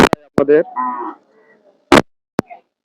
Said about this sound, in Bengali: এই যে অনেক বড় সাইজের আর একটা গরু আছে